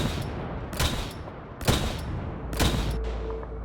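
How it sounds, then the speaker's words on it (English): Railway rifle gunfire in the Fallout 4 video game: three sharp, loud shots spaced roughly a second apart, each a hard crack with a short decaying tail, heard without talk. "that sounded like a railway rifle"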